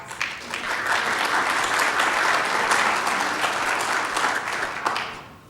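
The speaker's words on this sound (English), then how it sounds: "Yes, applause." An audience at a Kishwaukee College presidential briefing breaks into steady, dense applause, loud and sustained throughout, with no talking over it.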